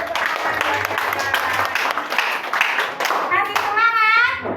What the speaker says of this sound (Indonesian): beri tepuk tangan buat kita.